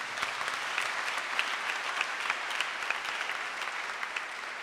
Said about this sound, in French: Veuillez vous acclamer vous-même.